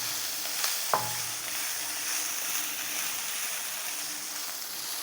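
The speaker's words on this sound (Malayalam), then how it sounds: "എരിവിനാവശ്യമായ പച്ചമുളകാണ് ഞാൻ ഇനി ചേർക്കാൻ പോകുന്നത് ഇതൊന്ന് മിക്സ് ചെയ്ത് കൊടുക്കാം" Green chillies are stirred into frying masala, giving a constant close sizzle with a sharp utensil clack and brief scrape near the start.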